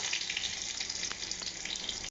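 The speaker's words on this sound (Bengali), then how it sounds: "এগুলো একটু লাল লাল করে ভাজা হবে।" Hot oil sizzles steadily around garlic, dry red chili and nigella seeds. The crackle is dense and even, close up and without speech, and it cuts off at the end.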